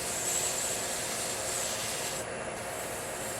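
Sandpaper rubs against a pen blank spinning on a lathe at slow speed, giving a steady, close, broadband hiss with no talking.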